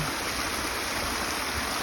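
Water rushes steadily through a breach opened in a beaver dam during a trapping check, a continuous close, full stream-like flow with no voices over it.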